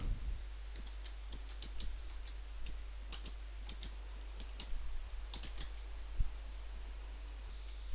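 Keys clatter on a computer keyboard as text is typed into a drawing title box, a quiet, close run of irregular light taps over a low steady hum.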